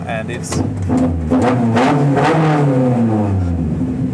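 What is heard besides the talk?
Mazda 121 K24 engine with individual throttle bodies revving on dyno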